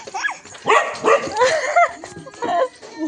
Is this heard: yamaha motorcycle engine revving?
no